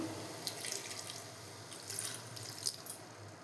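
Water is poured into beetroot halwa as it cooks, a soft running trickle with a few brief splashy drips over a low steady background hum, close by and with no talking.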